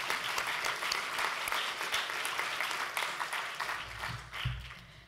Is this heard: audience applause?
yes